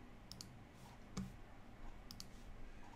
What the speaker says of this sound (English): So I'm going to click on stop there.